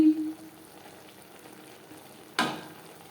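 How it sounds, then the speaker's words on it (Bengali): Okra (bhindi) simmering on low flame in a pan for a vegetarian curry, a soft steady sizzle and bubble throughout, with a louder scraping stir burst near the end. "ভেন্ডি সেদ্ধ হওয়া পর্যন্ত অপেক্ষা করব"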